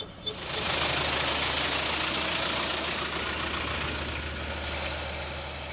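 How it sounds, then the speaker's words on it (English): New Zealand UNPROFOR military vehicles idle at a UN base in Bosnia on a thick fog morning, a steady loud engine rumble and hiss that fills the scene and fades slightly toward the end. "A local vehicle moving in, a couple of New Zealand UNPROFOR vehicles getting set to move out on this early thick fog morning"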